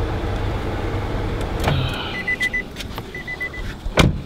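A Chevy Caprice being switched off: a low engine rumble fades out, followed by a short run of electronic chime beeps, a brief power-window whir and a final clunk, all close and fairly loud.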